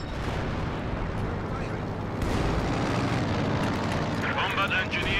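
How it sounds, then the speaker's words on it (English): Heavy bomb strike explosions from IL-2 aircraft in Company of Heroes 2, a dense, continuous rumbling barrage that swells louder partway through, with a voice speaking over the roar. "IL-2 bomb strike imminent"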